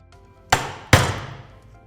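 Chisel struck twice into timber while chopping a mortise, two sharp close thumps about half a second apart, each ringing out briefly.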